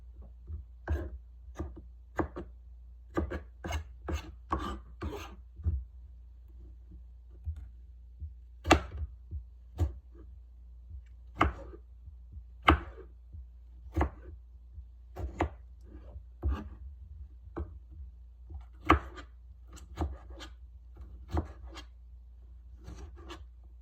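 A sharp kitchen knife chops on a board in a quiet room, a series of crisp, close, irregular taps and clicks coming in quick clusters with short pauses.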